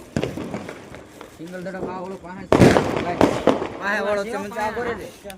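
Diwali firecrackers go off outdoors, two loud sharp bangs in quick succession midway, while people talk and shout over and around them.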